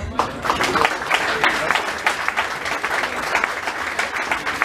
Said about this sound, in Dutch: Een applaus geven,